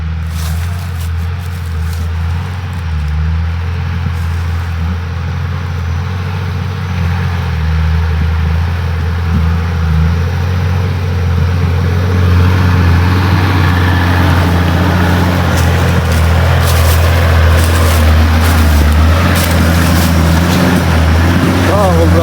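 A tractor engine runs steadily and loudly close by, a deep, even rumbling drone that grows slightly rougher partway through, with faint voices in the background.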